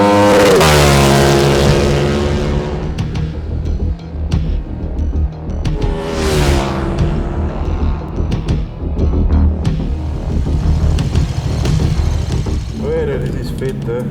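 KTM 1390 Super Duke R motorcycle engine revving loudly during a test ride, a strong rising roar at first, then fluctuating throttle blips and a passing whoosh, with voices talking over parts of it.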